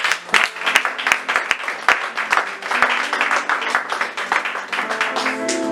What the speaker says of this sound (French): Si tu peux acclamer pour la bonne nouvelle.